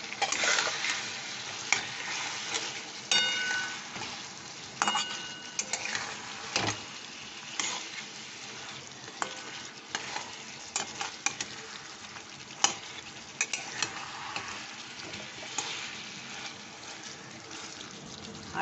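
Chicken curry with achar-style spices being stirred and fried in a pan, with a steady sizzle broken by frequent scraping and clinking stirs up close, carrying on throughout with no talking.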